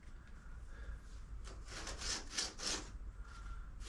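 Abrasive cutting into a metal Sebring-style rear valance, a steady rasping grind that swells into several louder bursts in the middle, close and alone without talk.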